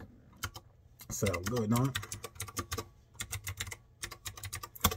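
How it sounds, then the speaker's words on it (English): Clicky computer keyboard typing, a steady stream of crisp, close key clacks with short bursts and pauses, while someone talks briefly over it. "Y'all hear that keyboard, baby?"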